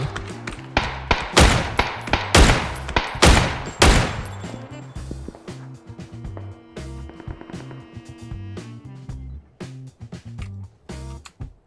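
Rapid bursts of video-game gunfire from PUBG, loud and close, crack in quick succession before thinning into scattered shots over a layered in-game background; no one speaks.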